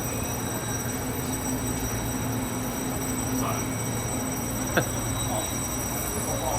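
Steady rumble and rail noise inside a moving train's bicycle carriage in Kaohsiung, Taiwan, a continuous even drone throughout with a single brief click or clack near the end.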